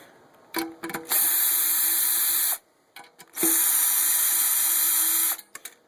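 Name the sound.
removing screws from metal case of GE electric relay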